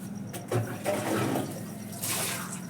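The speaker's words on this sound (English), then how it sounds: "now I am pouring the water" Water poured from a mug over feet while washing, a steady splashing pour with a couple of surges, close and fairly loud, no talk.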